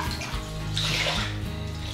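Water is poured steadily into a garlic pot while making Brazilian pork head cheese. It makes a continuous, close splashing rush that fills the whole moment, with no talk.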